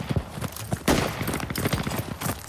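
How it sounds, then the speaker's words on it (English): Rapid bursts of light machine gun fire crackle and thud through a military shooter game battle in a river valley, dense overlapping shots with some distant echoing reports. "LMGs, keep the fire down."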